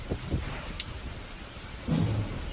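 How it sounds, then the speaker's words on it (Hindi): Heavy rain pours steadily during Cyclone Remal on the West Bengal coast near Kolkata, and a low rumble of thunder rolls in toward the end. The storm is heard alone, with no voices. "पश्चिम बंगाल के तटीय इलाकों में तूफानी हवाओं के साथ जोरदार बारिश हो रही है।"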